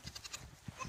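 A goat bleats faintly in a short wavering call, with a couple of quick pulses in under a second and no one talking.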